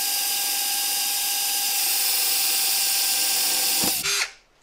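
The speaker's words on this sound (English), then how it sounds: "I'm just gonna take a drill and I'm just gonna drill another hole." An electric drill whines steadily and loudly while boring a hole through a deer skull, running continuously for about four seconds before cutting out and winding down.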